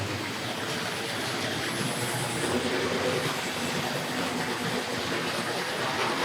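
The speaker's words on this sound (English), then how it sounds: "Now let's see if we can get that diesel locomotive to run away" Tri-ang Railways model diesel locomotive from an RS.5 goods train set running on track, a steady whirring motor hum and rolling rumble, fairly loud and continuous throughout, with no speech.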